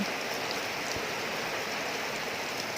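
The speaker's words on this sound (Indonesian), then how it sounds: "Jadi kalau hujan deras agak lama gitu, airnya banyak seperti ini teman-teman, banyak terus juga deras." Heavy rainwater rushes through a drain channel beside a house during a downpour, making a steady, dense wash of water. The sound is close and unbroken, with no voices.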